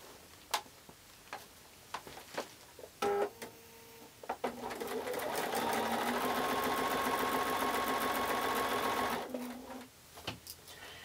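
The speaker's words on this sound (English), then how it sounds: "we'll stitch these quarter square triangle units." Sewing machine chain piecing quarter-square-triangle quilt units, running in one steady continuous burst of several seconds, close and fairly loud, with scattered clicks and handling knocks before and after.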